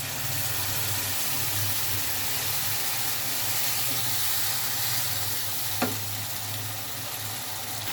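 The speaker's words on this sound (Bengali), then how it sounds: "এই মশলাটা এখন তেলে দিয়ে দিব" A ground paste of cumin and ginger frying in mustard oil gives a steady, close sizzling hiss with a low background hum and one brief sharp click midway, no voices.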